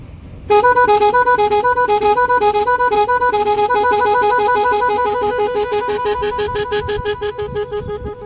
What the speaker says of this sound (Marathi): एकदम मस्तपैकी हॉर्नचा आवाज सुद्धा आहे बघा